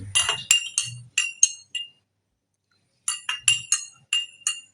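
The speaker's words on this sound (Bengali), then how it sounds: "এবার একটা চামচ দিয়ে ভালো করে এটাকে মিশিয়ে দিন" A spoon clinks against a glass while stirring lemon tea, a rapid run of bright ringing taps, then a pause of about a second, then another burst of clinks, close and clear with no voices.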